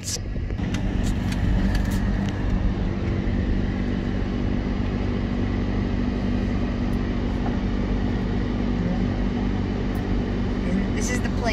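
A car drives along a road toward a cemetery, giving a steady loud engine and tire rumble with constant road noise and a few brief knocks near the start.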